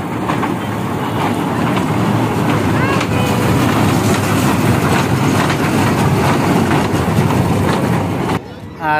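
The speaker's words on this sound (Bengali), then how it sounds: "আফরিন এখন ট্রেন গাড়িতে ঘুরতেছে" A ride on a small train at Patenga sea beach, a steady loud rumble with faint clickety-clack and whining wheel tones throughout, then cutting off abruptly near the end.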